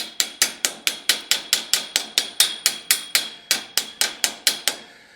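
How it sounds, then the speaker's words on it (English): A small, gentle hammer taps parts into a rig for a 1956 International COE hot rod truck. About twenty sharp metallic taps come in a steady, even rhythm, close up with no talk. "Try it with the small gentle hammer first."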